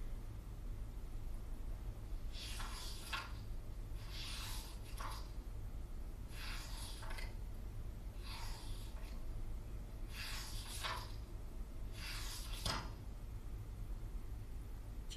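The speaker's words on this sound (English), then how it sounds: "That was somebody turning pages in a book." Pages turned in a book, six separate papery rustling swishes spaced about two seconds apart, close and clear over quiet background hum.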